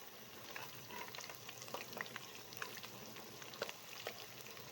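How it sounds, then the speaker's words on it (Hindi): Potato and eggplant pakoras frying in hot oil give a steady, close crackle and sizzle with fine popping bubbles throughout, with no voices. "आप देख सकते हैं कि कितना अच्छे से फ्राई हो रहा है।"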